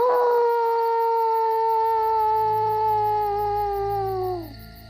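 A person howls to imitate a wolf while searching dense foliage for rare red wolves at night: one long, loud, sustained tonal howl that slowly falls and cuts off near the end.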